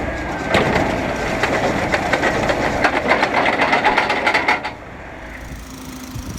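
A digger derrick auger bores a hole for a replacement utility distribution pole, a steady mechanical rumble with clattering, ratchet-like knocks for about five seconds before dropping to a quieter idle, with no talking.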